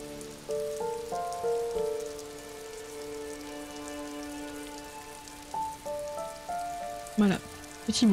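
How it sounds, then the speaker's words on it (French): Soft rain patters steadily in the background while gentle synthetic melodic tones rise and fall over it, calm ambience in the video game Disco Elysium. "Petit bruit de pluie."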